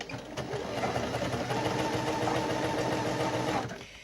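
A sewing machine stitches a fabric face mask, starting the seam with a backstitch. Its even, close mechanical hum continues for about three and a half seconds, then stops.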